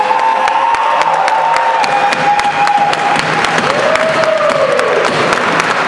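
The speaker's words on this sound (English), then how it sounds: "We're going to continue clapping after everything everybody has to say" A crowd at a student union annual general meeting applauds and claps steadily, dense loud clapping with some cheering and voices, sustained throughout.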